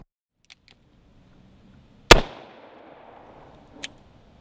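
A single loud, sharp .357 Magnum revolver gunshot fired into a car's firewall, a crack with a brief echoing decay, then a faint metallic clink a moment later.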